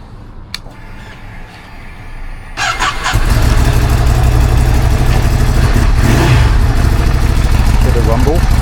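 A 2025 Ducati Scrambler 1100 Sport Pro engine fires up after a quiet moment and settles into a loud, steady, deep rumble close by, with voices faintly around it.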